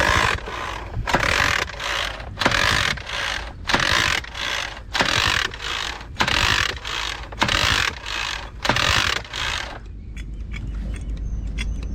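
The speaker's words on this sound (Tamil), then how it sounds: "கொஞ்ச நேரம் இப்படி பம்ப் பண்ணிட்டு ஆயில் நீங்கள் எவ்வளோ ஊற்றுறீங்களோ அந்த அளவுக்கு பம்ப் பண்ணணும்." Hand pump pushing oil into a boat engine, working in steady rhythmic strokes, roughly ten loud mechanical pumps about once a second, then stopping with faint clicks and background noise.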